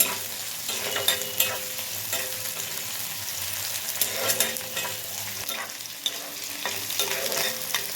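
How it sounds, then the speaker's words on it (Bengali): Onions frying in a pan for egg tarka, a continuous close sizzle with regular scraping strokes as a spatula stirs them, with no voices. "পেঁয়াজগুলো একটু নেড়ে চেড়ে দিচ্ছি, লাল হওয়া পর্যন্ত নাড়তে হবে"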